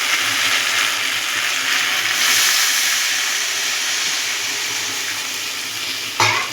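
Loud, steady sizzle and hiss of water added to a pan of frying potato and lentil fritter curry, steam crackling throughout with a sharp stir or clatter near the end.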